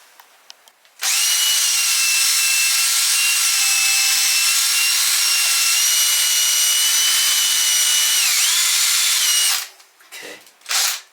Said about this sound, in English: So I just start drilling holes and preparing and make it ready.